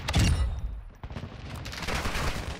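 Gunfire in Call of Duty Modern Warfare 2 multiplayer: a burst of rapid shots, then scattered distant fire continuing amid rumbling battle noise.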